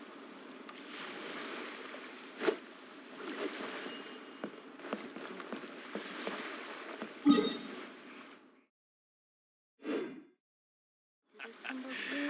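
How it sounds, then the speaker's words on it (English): Ocean waves wash and surge in a Genshin Impact game scene, a broad, steady rush with a few sharper splashes that drops away to near silence, then returns briefly. "The sound of the ocean waves."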